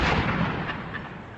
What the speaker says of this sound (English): you can still hear that, those loud explosions. There's machine gun fire from time to time.